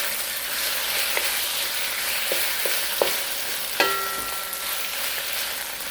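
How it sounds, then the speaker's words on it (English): A steady loud sizzle of stir frying spareribs in black bean sauce in a hot wok, with scattered clanks of a utensil scraping and tossing the food. "Keep on stir frying."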